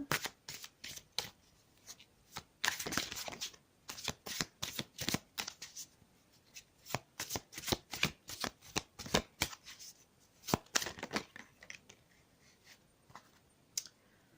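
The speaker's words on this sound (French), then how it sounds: "Donc je continue à battre les cartes." Tarot cards being shuffled by hand, a close series of crisp riffling snaps and flutters in quick irregular bursts with short gaps, fairly quiet and with no talking.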